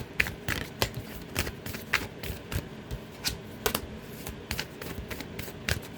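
Tarot cards are shuffled by hand in a quick run of irregular soft riffles and slaps, close and fairly quiet, with no voice over them.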